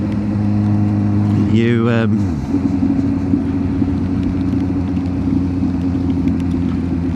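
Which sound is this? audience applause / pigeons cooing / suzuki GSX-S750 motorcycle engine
suzuki GSX-S750 motorcycle engine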